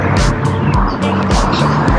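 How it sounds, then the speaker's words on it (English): Busy street traffic near Belmont Shore and 2nd Street in Long Beach, California: cars pass close by one after another, with engine hum and tire roar swelling and fading over a constant loud urban background. "You can hear more traffic now"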